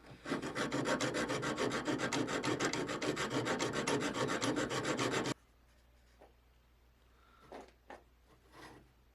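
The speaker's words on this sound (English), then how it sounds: "Nice little sharpening tool." Rapid, rhythmic rasping strokes of a sharpening file scraping knife steel, close and loud for about five seconds, then quiet with a few faint knocks.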